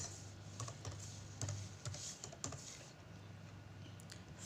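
Keystrokes on a computer keyboard as data is typed into a table, a steady run of light clicks with small irregular bursts over faint background hum, close and alone.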